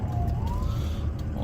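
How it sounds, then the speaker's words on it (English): An emergency vehicle siren wails over the steady rumble of a moving 2003 Ford F250 FX4 Powerstroke diesel truck, its rising tone clear but moderate and heard from inside the cab. "Got some emergency vehicles here."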